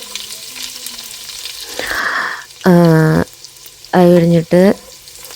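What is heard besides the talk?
sautéing garlic and shallots in a pan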